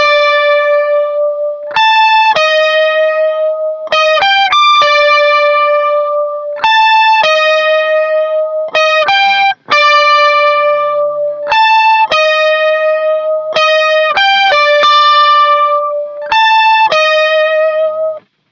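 Electric guitar playing riff patterns in standard tuning on a six-string, heard alone with effects, loud and steady, with short repeated figures separated by brief accented note changes.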